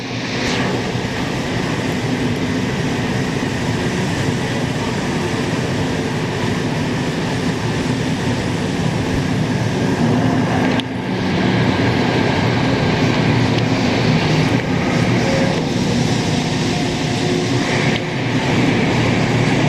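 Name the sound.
train passing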